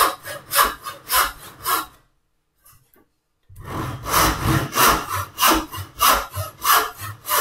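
Hand saw cutting into wood for a birdbox, rhythmic rasping back-and-forth strokes, loud and close, with a brief pause of silence before the strokes resume at a steady pace.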